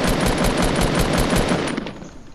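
Rapid automatic gunfire in the video game Fortnite, a loud close burst of evenly spaced shots for about two seconds before trailing off.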